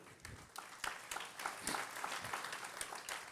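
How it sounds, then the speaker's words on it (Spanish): A church congregation applauds during a Spanish-language Christian and Missionary Alliance service, a sustained mass of clapping with a few sharper individual claps standing out, fairly distant and unbroken by speech. "eso merece un aplauso"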